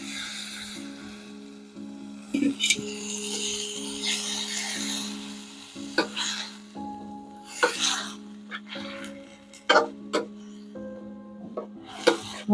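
Grated bottle gourd halwa with milk is stirred in a pan, making intermittent scraping and rubbing strokes of a spoon against metal over a low, steady hum, with soft bumps between strokes.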